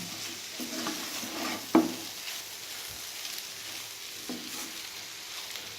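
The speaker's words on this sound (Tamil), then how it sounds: "பன்னீர் இது கூட ஆட் பண்ணிவிட்டு நல்லா மிக்ஸ் பண்ணி விட்டுருங்க" Paneer being stirred into veg keema masala in a pan, a steady soft scraping and sizzle with one sharp clink of the spoon against the pan partway through, close and moderately quiet.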